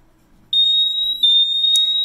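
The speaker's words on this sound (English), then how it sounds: "And it's going to start alarming." GMI Visa gas detector alarming during a bump test, a loud piercing continuous high-pitched electronic tone starting abruptly and holding steady with slight pulses, close up.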